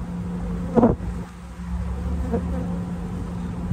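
A steady, droning hum of many honeybees buzzing close around a hive, interrupted early on by one brief knock.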